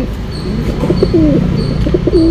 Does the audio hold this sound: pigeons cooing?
yes